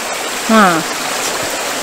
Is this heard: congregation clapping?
no